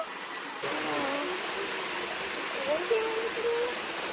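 Water falls steadily in a South Goa wildlife sanctuary, a continuous broadband rushing roar close by, with faint tonal chirps or calls drifting over it and no clear talk.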